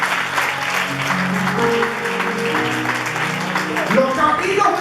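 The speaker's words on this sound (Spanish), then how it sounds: "Denle un aplauso grande a Dios." Church congregation applauding during a sermon, dense steady clapping with a sustained musical tone beneath, fairly loud and continuous throughout.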